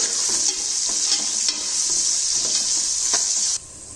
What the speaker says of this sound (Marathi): लालसर होईपर्यंत आपण हा कांदा फ्राय करून घेणार आहोत